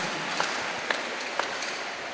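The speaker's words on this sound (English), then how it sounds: "Give Jesus a wonderful clap offering." A church congregation claps in a clap offering, a steady wash of many hands with a few sharper pings, moderately loud and even throughout.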